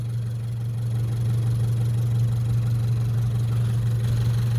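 A 2023 Subaru BRZ engine idles steadily with the hood open, a loud, constant low hum running unbroken from start to finish with no voices.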